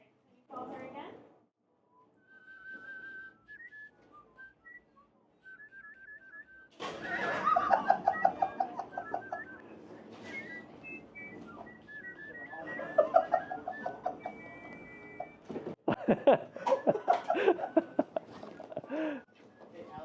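A person whistles bird-like trills and chirps imitating forest birds waking at dawn, with laughter and chatter breaking in around and over the whistling.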